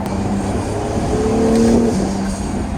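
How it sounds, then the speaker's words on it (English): An Acura NSX sports car engine hums and builds in pitch as it accelerates, a steady droning roar heard close with no talking. "Oh, that sounds so good. Such a great engine."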